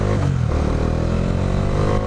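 A Bajaj Dominar 400 motorcycle idles in first gear, its engine giving a loud, steady, close rumble throughout with no talk.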